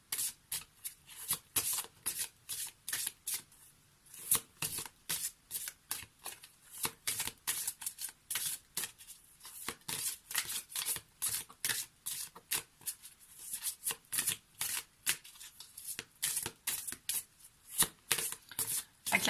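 A deck of fairy-tale oracle cards is shuffled repeatedly and close up, with rapid rhythmic riffling bursts separated by short pauses, continuing steadily throughout.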